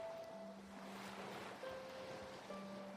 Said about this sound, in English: as the waves make their way to shore